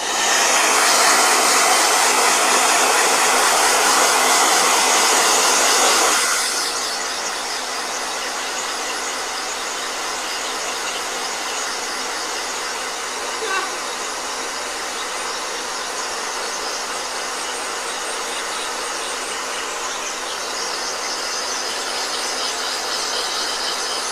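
A blow dryer runs loud and steady, aimed at a watercolor painting, then drops to a lower, quieter hum that continues on its own to the end.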